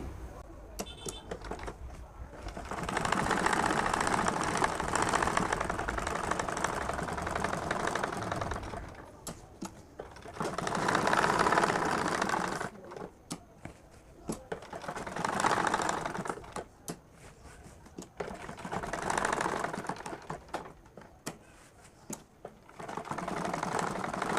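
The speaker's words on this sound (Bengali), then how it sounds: "এটাকে আটকে দেবো সেলাই করে" A sewing machine stitches a round collar onto a jubba panjabi in several sustained whirring runs, each a few seconds long, with short quiet gaps between them. The machine is close and fairly loud.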